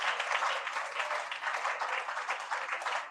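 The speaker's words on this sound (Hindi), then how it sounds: "जोरदार ताली बजाकर धन्यवाद" Congregation applause at a Friday church meeting, a dense, steady wash of many hands clapping together that continues without a break, fairly close and filling the room.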